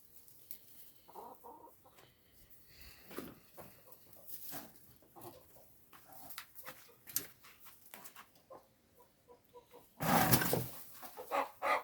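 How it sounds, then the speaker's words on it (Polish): Hen clucking in a rabbit-breeding shed, with a series of short close clucks and scratchy rustles scattered across the clip, then a loud burst of flapping and squawking near the end. "O, tu wlazła kura, trzeba wyrzucić."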